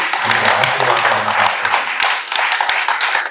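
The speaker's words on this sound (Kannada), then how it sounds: "ಹೇಳುವುದನ್ನ ನಾವು ಜೋರಾದ ಚಪ್ಪಾಳೆಯೊಂದಿಗೆ" Audience applause at a Tulu devotional song audio release function, a dense, loud wash of many hands clapping steadily throughout, with a few sharper individual claps standing out near the end and a brief low murmur early on.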